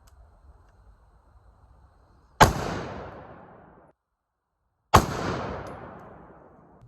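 Two sharp unsuppressed shots from a Black Anchor Tactical Nautilus 5.56 rifle fitted with a flash hider, each a loud crack followed by a long decaying echo, spaced about two and a half seconds apart with quiet between them.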